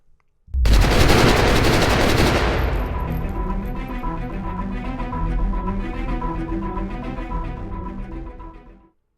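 A loud gunfire sound effect: a single heavy blast with a bright crack, then a long rumbling echo and rattling tail that slowly fades over several seconds, with no voices.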